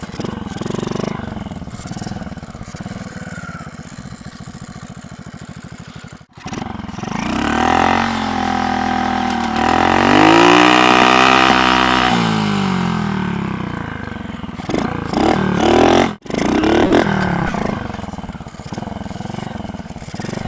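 A BMX bicycle fitted with a motorbike engine runs loudly and close by, revving up and down in long rising and falling sweeps with two brief cutouts.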